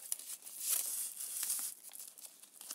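Brief, soft crinkling and snipping as paper is cut for a junk journal, a few quiet close-up rustles over about three seconds.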